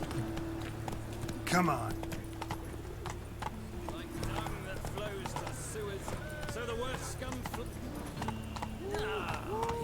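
In The Witcher 3, a horse runs with steady hoof clip-clops under game music. Someone speaks briefly over the hoofbeats.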